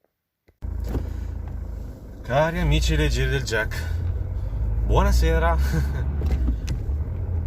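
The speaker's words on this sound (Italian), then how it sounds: "Sì, sono in macchina, quindi questo sarà un car vlog" Interior of a moving car: steady low road and engine rumble throughout, with someone talking over it near the microphone.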